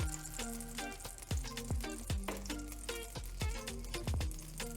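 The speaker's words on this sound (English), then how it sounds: "Hear that sizzle?" Brioche French toast sizzles faintly in a frying pan, a soft steady crackle under other quieter background sounds, with no talk.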